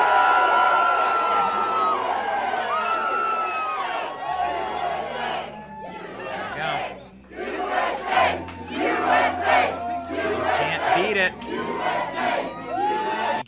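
A packed crowd at a Donald Trump event in Iowa roars and cheers, then breaks into loud rhythmic chanting of USA in repeated pulsing bursts, close and overwhelming throughout.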